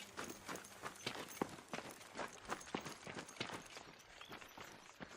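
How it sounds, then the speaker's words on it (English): Running footsteps in the video game ARC Raiders, a steady series of quick, close, distinct thuds lasting the whole stretch, with no talk over them. "My footsteps, or was that more?"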